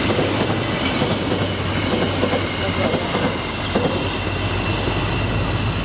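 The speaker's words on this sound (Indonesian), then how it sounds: "Kereta api." A new 2021 INKA Madiun-built track measurement train passes straight through a station without stopping, a loud, steady rumble of wheels and rail clatter close by for the whole stretch.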